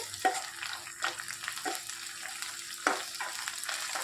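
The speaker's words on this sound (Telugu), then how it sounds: "పచ్చివాసన పోయేంత వరకు వేయించుకోవాలి" Ginger-garlic paste and onions frying in oil for a potato curry, giving a close, continuous sizzle with a few scraping stir strokes spaced through it and no talk.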